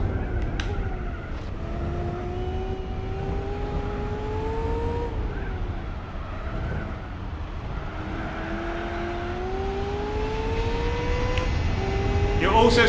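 Race car engine in Gran Turismo 4 on worn tires, revving up and shifting through gears repeatedly during a lap, a loud, close, rising-and-dropping whine with a brief tire squeal.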